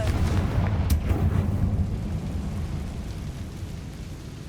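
A Confringo fire spell blast in Hogwarts Legacy, a dull rumbling boom with a sharp crack near the start that fades into a sustained low roar.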